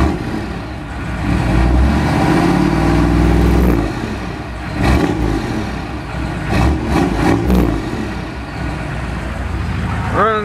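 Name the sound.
pickup truck engine running and revving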